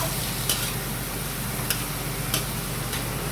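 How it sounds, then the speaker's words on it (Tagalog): Onions being stirred in a pan while cooking arroz valenciana, a steady sizzle under a few light, sharp clicks of a utensil against the pan. "Ayan ay ating halo-haloin."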